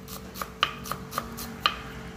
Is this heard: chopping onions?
yes